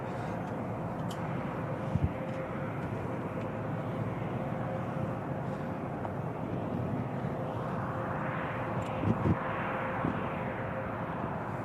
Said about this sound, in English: The 380's just lining up now for its departure